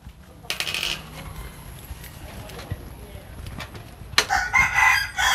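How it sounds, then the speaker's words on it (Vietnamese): Chickens and a rooster at a Vietnamese farm, including black-boned chickens with black faces and combs. A rooster crows near the end amid scattered clucks and clatter, with people talking nearby. "Rồi bên này là sẽ có một số gà mặt quỷ."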